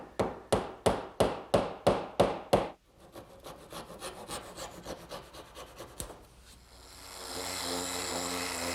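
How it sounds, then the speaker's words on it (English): A glued wooden dowel is hammered into a hole in a kitchen worktable: about nine sharp, evenly spaced blows, loud and close, followed by quieter rubbing and working sounds on the wood. "And I'll drive it in, making sure not to hit it so hard that it might pop through the other side."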